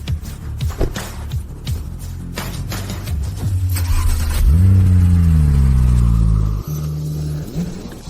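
A car engine revs hard during a driving stunt, climbing and holding a loud, strained roar for several seconds, with a sharp drop near the end before the rumble resumes; no talk over it.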